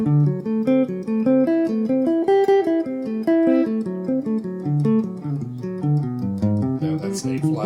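A guitar runs through a quick, steady stream of plucked notes, four at a time, climbing and falling in D-shape arpeggio patterns, played alone and up close.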